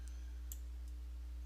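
Computer mouse clicks, two or three faint, sharp ticks spread over about a second and a half, set against a steady low electrical hum.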